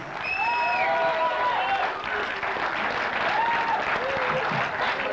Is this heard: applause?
yes